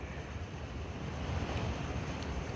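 Strong waves of the southwest monsoon break along an island shore, giving a steady, loud rush of surf that swells slightly in the second half, with wind buffeting the microphone throughout.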